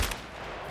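A single gunshot in Escape from Tarkov, fired to kill a scav, opens with a sharp crack and then fades into a quiet, ringing tail.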